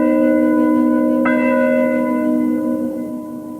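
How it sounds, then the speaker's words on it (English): A church bell rings once, loud and resonant, then its long, steady hum slowly fades over several seconds with no other sound. "The church bell would be tolling from morning to evening"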